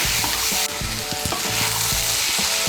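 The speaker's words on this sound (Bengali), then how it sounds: "ছোলাটাকে মশলার সঙ্গে মিশিয়ে নিয়ে 1 মিনিটের মতো ভেজে নিয়েছি" Chickpeas fry with spices in a pan, a loud continuous sizzle broken by rhythmic scraping and stirring of a spoon against the pan, close up with no speech.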